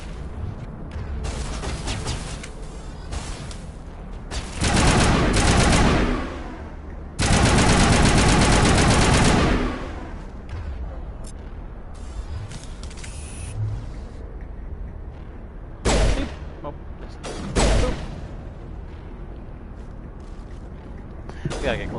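Rapid automatic gunfire from the player's weapon in the video game Mass Effect, with loud sustained bursts broken by pauses and a few short volleys, heard alongside background game sound.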